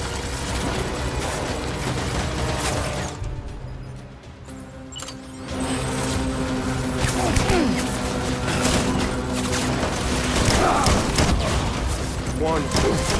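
Gunfire in the video game Death Stranding: dense, sustained bursts of shots and crashing impacts that drop out briefly, then return loud and continuous, with shouting voices mixed in.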